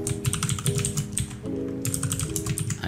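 Close typing on a computer keyboard while coding a Discord.js bot, a rapid flurry of clicky keystrokes over a steady background tone.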